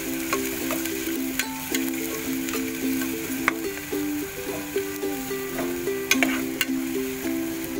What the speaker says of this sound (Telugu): ఆయిల్ హీట్ అయిన తర్వాత ఆనియన్స్ కట్ చేసి పెట్టుకున్న ఆనియన్స్ ముక్కలు వేసుకోవాలి